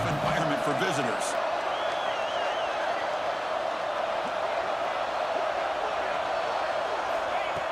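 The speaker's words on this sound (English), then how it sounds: "Listen to the crowd energy here in the early going." Steady roar of a packed stadium crowd at an Iowa vs BYU college football game, a continuous dense wash of cheering filling the whole stretch, with a play-by-play voice talking over it early on.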